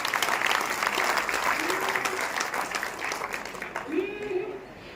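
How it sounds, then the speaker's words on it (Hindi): A crowd at a Hindu devotional poetry gathering bursts into loud, dense applause for a poet, sustained clapping that slowly eases, with a voice briefly rising over it near the end. "आप सबका सुनने का मन है तो मुझे जोरदार तालियों से आदेशित करेंगे।"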